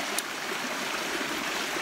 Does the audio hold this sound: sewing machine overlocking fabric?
no